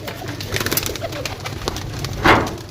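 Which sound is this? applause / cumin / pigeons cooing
pigeons cooing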